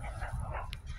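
Dogs bark and yip outdoors on a summer day, a few short, moderately close barks and whimpering yelps layered over a continuous rustling background.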